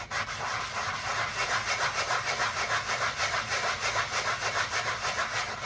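Steady rhythmic rubbing of a sanding block on straight-grained wood for a mandolin build, back-and-forth strokes repeating evenly and close by.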